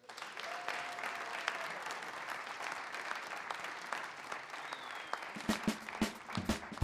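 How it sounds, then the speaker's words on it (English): Audience applause at a radio hall of fame awards ceremony, a faint sustained wash of clapping from a crowd, with a few sharper nearby claps toward the end. "A round of applause for Brad Barker."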